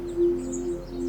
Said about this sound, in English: You'd expect to hear birds